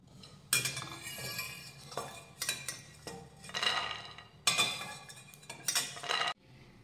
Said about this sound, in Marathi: शेंगदाणे भाजून झाल्यानंतर एका प्लेटमध्ये काढून घेतलेले आहेत